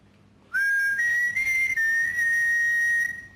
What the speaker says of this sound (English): There's the whistling again.